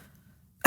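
A single short, sharp cough right at the end of a near-silent moment, close and fairly loud, done as part of a diaphragm exercise.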